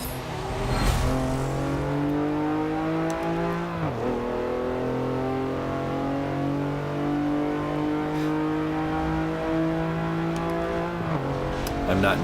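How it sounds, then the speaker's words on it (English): A pickup truck engine in the racing game Forza Motorsport 7 revs and holds a steady droning pitch, dropping sharply at two gear shifts before climbing again, heavy and continuous throughout. "See, that's not what a pickup truck should sound like."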